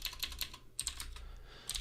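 Fingers type a short command on a computer keyboard, a quick run of close, crisp key clicks with a brief pause partway through.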